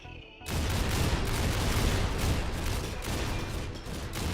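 Gunfire rattles in a RimWorld battle, a dense continuous barrage of shots and booms that starts abruptly and stays loud and steady throughout, with no talking.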